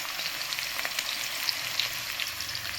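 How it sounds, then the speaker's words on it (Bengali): Potatoes frying in bubbling hot oil in an electric wok, a steady dense sizzle with fine crackles running continuously and fairly close, with no voices. "আমার তেলটা টকবক টকবক করছে।"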